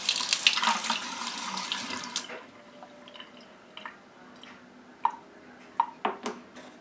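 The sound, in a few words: water running in a sink while rinsing a paintbrush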